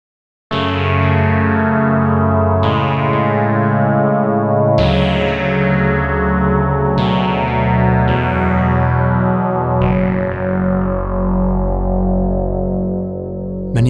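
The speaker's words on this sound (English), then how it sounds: "you can find out what a polyphonic Minimoog might sound like" A polyphonic Minimoog Model D sampler instrument plays sustained synth chords, changing about every two seconds with bright attacks and long decays, loud and up close with no talking.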